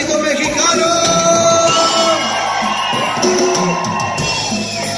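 A loud crowd at a cumbia concert shouting and cheering together, a dense wall of voices with whoops rising over it throughout.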